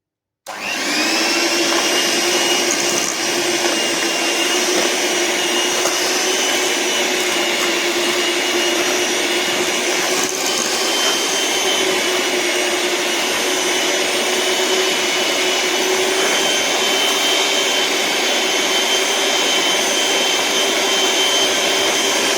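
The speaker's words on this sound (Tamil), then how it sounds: "இப்போ பார்த்தீங்கன்னா பட்டரும் சுகரும் போட்டு நல்லா ஒரு 15 மினிட் பீட் பண்ணி வச்சுருக்கேன்" An electric mixer beats butter and sugar for cake batter, starting abruptly and then running as a loud, steady motorized whir that continues without a break.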